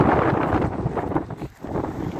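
Strong gusty wind ahead of an approaching thunderstorm, roaring and buffeting the microphone loudly and continuously with a brief lull near the end, no talk.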